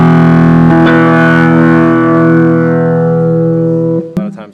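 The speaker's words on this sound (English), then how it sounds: "I use the distortion on the Rhodes to emulate that" A Rhodes electric piano played through a distortion box rings out as one long, thick, buzzing chord that slowly decays for about four seconds before cutting off with a few brief clicks and noises.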